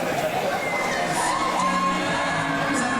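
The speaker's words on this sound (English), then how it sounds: "You can just hear the crowd, Nick." A fight-night crowd cheers and whoops continuously at a steady roar, voices blending into a bright, excited din.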